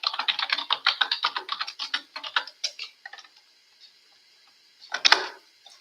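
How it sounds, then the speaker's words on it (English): Rapid, crisp computer keyboard typing close up, a dense run of keystrokes that slows and trails off into silence, followed by one short burst of clatter near the end. "Just give me a moment as I type this"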